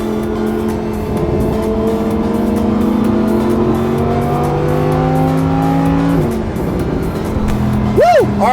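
A Lamborghini Performante roars along ahead, its engine tone climbing steadily through the gears with a brief shift and a whining pass near the end, loud and continuous from close behind.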